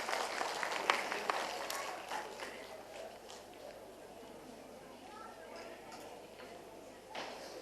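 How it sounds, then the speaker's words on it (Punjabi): Applause from an audience at a school annual function, a burst of clapping in the first couple of seconds that thins into scattered claps and crowd murmur, with voices talking over it. "ਸੋ ਜ਼ੋਰਦਾਰ ਤਾੜੀਆਂ"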